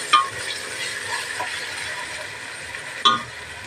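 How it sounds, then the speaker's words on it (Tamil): Onion and ginger-garlic paste sautéing in a pan for chicken biryani, a steady low sizzle with two sharp metallic clinks of a spoon against the vessel, no voices. "இதையும் போட்டு நல்லா வதக்கி விட்டுடலாம்"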